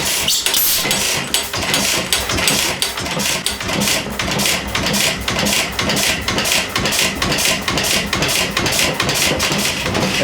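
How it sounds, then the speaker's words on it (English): Old engine driving an 1800s cider mill, a loud, close rhythmic chugging with regular knocking beats and clanking mechanical rattle, running steadily without talk. "that's the sound of the engine running"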